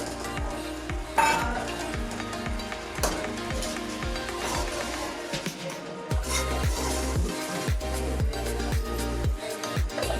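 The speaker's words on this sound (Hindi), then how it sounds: "अब इसमें चिकन डालते हैं।" Chicken cooks in a hot pan for bhindi chicken masala with a dense, crackling sizzle that carries on throughout, close by. Frequent scraping and clinking stirring strokes fall over it, and there is no talk.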